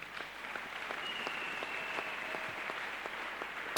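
Scattered claps from a congregation applauding in a church, faint and distant, sound over a quiet hush before a sudden loud knock at the very end.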